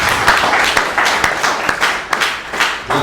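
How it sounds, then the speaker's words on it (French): An audience claps loudly and steadily at a book presentation and dedication ceremony for a poetry collection, with dense, continuous applause and sharper individual claps standing out throughout. "je vous demande d'applaudir très fort"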